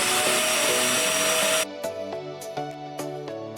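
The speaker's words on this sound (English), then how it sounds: "Turn on the vacuum cleaner." A vacuum cleaner hooked by hose to a PCS-350III air duct cleaning machine roars loudly with a broad whine for about a second and a half, then cuts out, leaving a run of tonal beeps and clicks.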